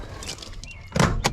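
The hood of a first-generation Toyota Sequoia is released, with a couple of short close thunks and clicks, the louder one near the end.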